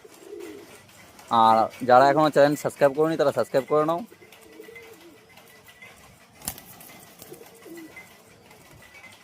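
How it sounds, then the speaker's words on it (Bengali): Pet pigeons kept for sale give low, soft coos close by, partly under someone speaking and continuing quietly after he stops. "আমি কম দামেই পায়রা দিই,"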